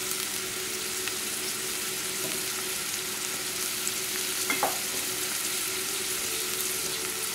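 Brown rice and cumin sweat in a pan with a steady, soft sizzle that stays even throughout. A faint clink or scrape comes through briefly near the middle.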